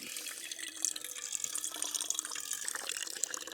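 Water runs steadily from the tap of a 6-litre camping water bottle holding about 2 litres, at a wild camp by a small hot tent. It is a constant close hiss and trickle with no voices.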